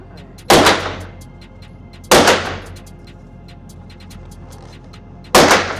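Three loud, sharp gunshots ring out one at a time from a rebuilt gun at a shooting range, each one echoing briefly before the next, with the second and third spaced unevenly.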